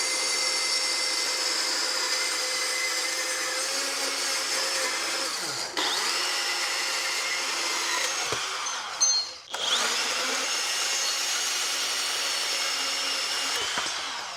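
A Hercules HCB 790B compact bandsaw runs with a steady high motor whine as it cuts. The sound dips briefly twice as the load shifts, and nobody speaks.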